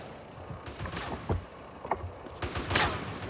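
Sniper gunfire in GTA San Andreas: a few sharp, separate shots with gaps between them, fairly quiet over a low game background.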